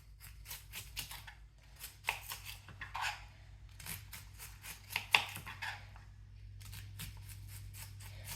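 Knife slicing through a whole onion held firmly together on its side, a series of crisp, quick cutting strokes at close range, irregular in rhythm with brief pauses, under a steady low hum.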